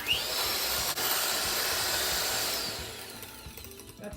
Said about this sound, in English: if I use my little mixer here instead